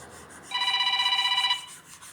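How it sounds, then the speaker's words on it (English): A work phone rings during a Samsung Galaxy Tab A9+ screen replacement, a single electronic trilling ring burst of about a second, clear and close against a quiet room. "Yep, and the work phone's going to ring."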